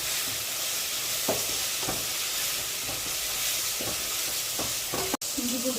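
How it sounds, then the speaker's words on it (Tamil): Small shallots sauté in a pan with ginger garlic paste, a steady close sizzle broken by periodic scrapes of a stirring spoon and a sharp knock near the end. "நல்லா வெங்காயம் வதங்கும்."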